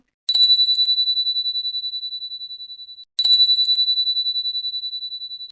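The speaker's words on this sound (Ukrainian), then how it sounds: "звуки дзвіночка." A small bell rings twice, each clear high ding sharply struck and then left to fade out over a few seconds.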